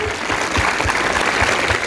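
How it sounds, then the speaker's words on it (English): Audience at a Montessori school Independence Day celebration clapping loudly, a dense, continuous burst of many hands with heavier, rhythmic beats running through it. "Your clap sound, people in Warangal town should listen."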